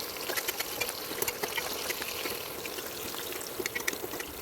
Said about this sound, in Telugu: ఇండక్షన్ మీద కడాయి పెట్టుకొని కొంచెం ఆయిల్ని పోసుకొని హీట్ చేసుకుందాం